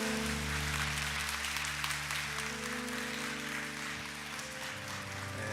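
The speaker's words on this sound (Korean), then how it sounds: "우리 한번 힘차게 감사의 박수 드리겠습니다." A church congregation at an autumn revival service applauds in thanks, a steady wash of clapping over a low sustained tone, moderately distant and even throughout.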